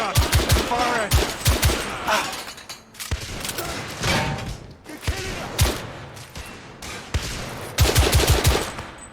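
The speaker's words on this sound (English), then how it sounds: "Coach gun! Fire it!" Coach gun blasts and heavy gunfire in The Order 1886 ring out repeatedly in loud, rapid volleys with mechanical clatter between shots, and a voice shouts briefly among them.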